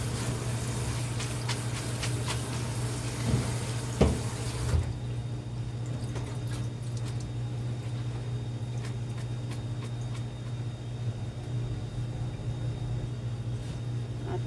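Tap water runs steadily over soybean sprouts being washed for kongnamul, a Korean side dish. There is a constant rushing stream with a low hum and occasional soft knocks, and the stream eases partway through.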